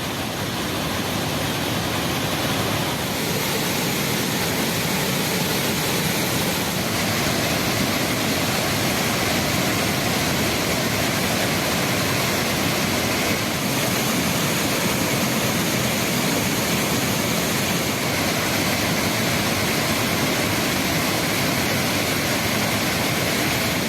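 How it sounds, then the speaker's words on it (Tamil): Thirparappu waterfall in flood roars as a loud, dense and unbroken wash of rushing water, steady from start to finish with no other sounds. "ஆர்ப்பரித்து கொட்டும் திருப்பரப்பு அருவியின் ரம்யமான காட்சியை தற்போது பார்க்கலாம்"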